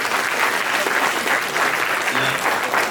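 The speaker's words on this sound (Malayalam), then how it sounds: "ആ കൊച്ചുങ്ങള് വളരെ മനോഹരമായിട്ട് കൈയടിക്കണം" Dense, steady applause from a church gathering crowd fills the whole stretch at an even level, with a faint murmur of voices underneath.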